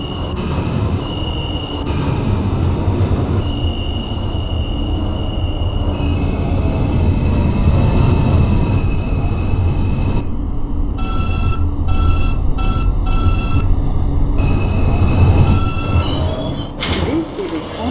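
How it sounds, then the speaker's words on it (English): An R160A subway train on a Q local run toward Coney Island in the OpenBVE simulator, a loud, steady rumble of wheels and motors with tonal whines and brief brake squeals near the end. "This is a Coney Island Stillwell Avenue bound Q local train."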